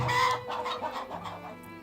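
Chickens clucking at a coop in the video game Farthest Frontier, a run of several quick, close clucks over a steady low hum.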